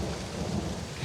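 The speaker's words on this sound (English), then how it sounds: "the rain started to kick up" Rain pours steadily with a deep rumble of thunder beneath it, a continuous and fairly loud storm wash lasting about a second with no voices.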